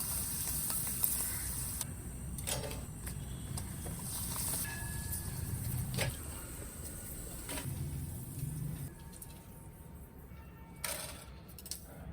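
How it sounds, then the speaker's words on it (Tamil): Appalam (papad) frying in hot oil gives a steady hiss and sizzle, with occasional sharp crackles and clinks near the pan, and no talk over it. "அப்பளத்தை பொறிச்சு போடுவேன்"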